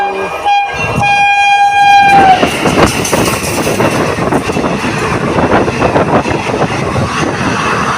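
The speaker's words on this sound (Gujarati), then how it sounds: "બીજી પણ રેલગાડી આવે છે જોઈ લો." A train horn blares loudly, then a train rolls past close by, its wagons rumbling and clattering steadily to the end.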